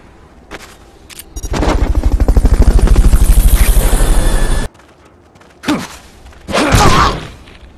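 A helicopter in the Metal Gear Solid Peace Walker video game roars in loudly with rapid, rhythmic rotor chopping for a few seconds, then cuts off abruptly, followed by two shorter bursts of similar noise.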